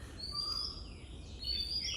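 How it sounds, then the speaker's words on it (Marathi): Birds call in the Konkan countryside with a few thin, high whistled notes drifting over a low, quiet rural background, fairly faint and distant. "तुम्हाला एवढ्या पक्ष्यांचे आवाज ऐकायला येतील ना"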